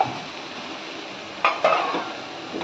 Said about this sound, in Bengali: ঢাকনাটা দেখি আলু সেদ্ধ হয়েছে নাকি।